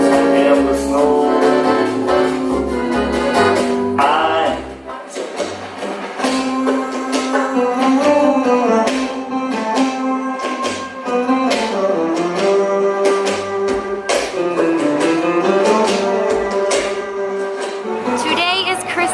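Christmas music plays continuously on a Sydney shopping street on Christmas Eve, a full, loud festive song with melody and accompaniment filling the whole stretch.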